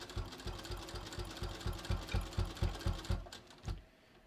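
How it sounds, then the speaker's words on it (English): Sewing machine stitching along the guideline of a decorative welt pocket on a bathrobe, a quiet rapid rhythmic whirring and thumping that runs steadily and then stops near the end. "I'm just going to sew along this, along my opening guideline."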